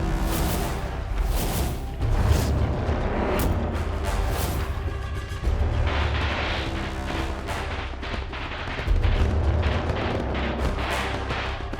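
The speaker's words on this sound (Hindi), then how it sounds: "चलो वो वाले पटाखे जलाएं" Firecrackers go off in a dense, loud crackling barrage of sharp bangs and pops, with several heavier booms rising above the rapid bursts.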